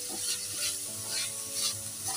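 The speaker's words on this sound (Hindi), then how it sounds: "सौते करना है" Capsicum and corn being sautéed in oil, with a soft steady sizzle under rhythmic scraping and stirring strokes of a spoon against the pan, close up and without talk.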